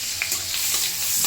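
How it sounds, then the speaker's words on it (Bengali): Two dried red chillies sizzle in hot white oil and butter, a close, steady frying crackle with small pops and a light stir, heard alone. "এবার আমি ফোড়নে দেব দুটো শুকনো লঙ্কা।"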